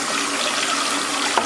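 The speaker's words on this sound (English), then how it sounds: "I'm using the bathroom sink today" Water runs from a bathroom sink tap into the basin in a steady, close rush that fills the whole moment, with one small knock near the end and no talk.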